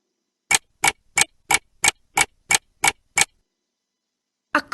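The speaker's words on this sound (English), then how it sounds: "A clock." Clock ticking in a children's Ballyland keyboard program: nine crisp, evenly spaced ticks, loud and close, then a pause before another tick begins.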